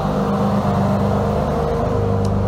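VW VR6 car with a water leak and rising temperature, its engine droning steadily while driving, a loud continuous low hum from inside the car.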